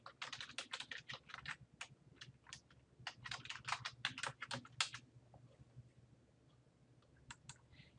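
A username and password are typed on a computer keyboard in a quick run of close, crisp key clicks with irregular spacing, then a few scattered taps after a pause, all quiet.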